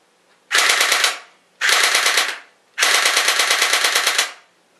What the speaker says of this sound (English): So now we're going to give you a small example of fully automatic fire.